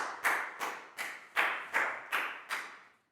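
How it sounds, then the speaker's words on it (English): A class of primary students claps in unison, six or seven evenly spaced, sharp collective claps over about three seconds, close and moderately loud, with no talking over them. "High five and a big round of applause for Pak Bung, please, guys."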